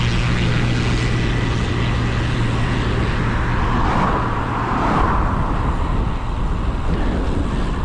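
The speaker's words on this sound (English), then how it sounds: "Hopefully you just saw that plane taking off." A propeller plane takes off from Sibson Aerodrome, its engine a loud, continuous drone heard from a nearby country lane, steady and unbroken throughout with no voices over it.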